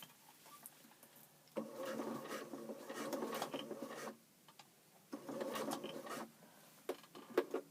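A sewing machine stitches round a loop of elastic in two separate runs of fast, even whirring, with quiet handling and pauses between them.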